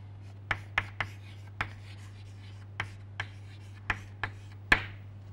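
Sharp, separate taps and scrapes of a pen or chalk writing an equation, close up, irregularly spaced over a steady low background hum.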